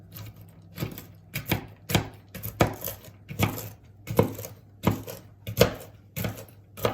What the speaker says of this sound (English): I just want to chop them roughly to put in the biscuits.